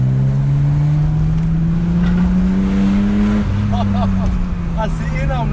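A powerful BMW Alpina engine roars close by, its pitch climbing and then dropping off, while a person talks excitedly over the noise.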